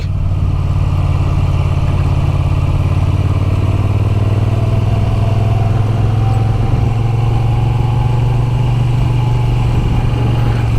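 A Moto Guzzi V7 Sport with shaft drive, ridden along an open road, its engine droning loud and steady from close by with a constant low rumble and rising pitch as it pulls, no voices.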